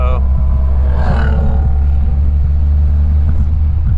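A steady, loud low roar of wind buffeting while driving an open 1955 MG TF 1500 fills the clip, with a voice speaking briefly over the rumble.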